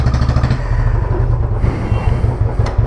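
A motorcycle fitted with a manual decompressor being started, its engine thumping in a loud, rapid, close pulse that steadies into a rough idle, with no voices.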